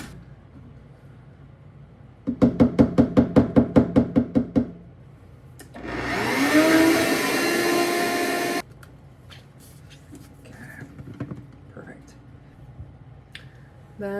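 A Beast blender runs in a burst of about three seconds, a loud whirring roar that cuts off sharply, preceded by a quick series of about a dozen rapid knocks and followed by quiet handling noises.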